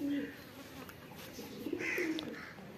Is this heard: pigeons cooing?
yes